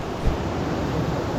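Strong, fast stream current near Lakshapana Falls in Sri Lanka, a dense continuous rushing roar of water, close and loud with a touch of wind noise.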